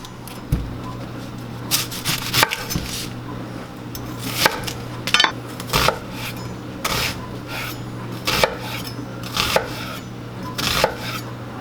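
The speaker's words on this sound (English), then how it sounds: "the first thing we're going to do is cut up an onion" A knife chops an onion on a cutting board in a series of crisp, irregular knocks, some in quick clusters, close and clear over a faint steady hum, with no talking.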